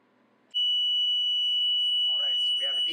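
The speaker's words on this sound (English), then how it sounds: "we have a DDC alarm, and it went off on high liquid level" DDC alarm on a refrigeration control panel sounds a loud, steady high-pitched electronic tone that starts abruptly and holds continuously, with a voice speaking faintly beneath it near the end.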